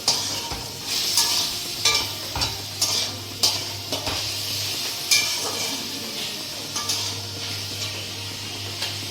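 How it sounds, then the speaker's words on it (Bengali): An egg for homemade chow mein fries in a pan while being stirred, with regular scraping strokes over a steady, close sizzle and a low background hum, with no talk. "এখন ডিম ভাজা চলছে"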